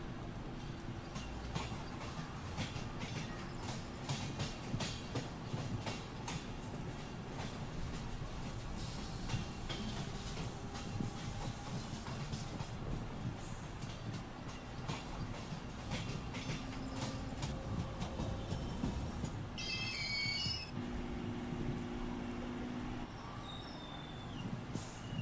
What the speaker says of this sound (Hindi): CSMT पनवेल स्लो लोकल के साथ गोरेगांव CSMT स्लो लोकल का क्रॉसिंग हो रहा है, बढ़िया सा क्रॉसिंग।